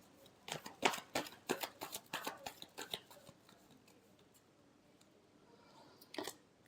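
Tarot cards being shuffled, a run of crisp, rapid riffling clicks and flutters up close for about three seconds, then a quiet pause and one last short riffle near the end.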